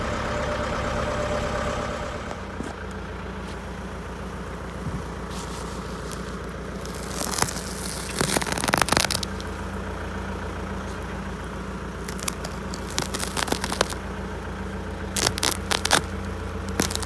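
A tractor carrying grass silage on its rear loader idles with a low, steady rumble, broken by occasional rattles and crackling bursts partway through.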